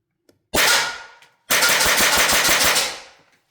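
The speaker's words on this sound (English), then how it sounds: "this one's going to be from a 22 semi-auto, 22 rimfire, and it'll be 5 rounds again" Shots from a .22 rimfire semi-automatic fired at body armour: one sharp crack, a brief gap, then a rapid run of about eight closely spaced loud reports, each ringing out briefly.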